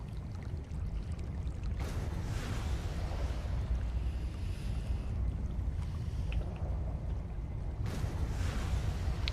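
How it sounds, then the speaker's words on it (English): A factory in the video game StarRupture gives off a soft rolling ambience like ocean waves, swelling and surging in long broad washes over a constant low rumble, with no voices. "that factory sounds like a wave, like an ocean wave"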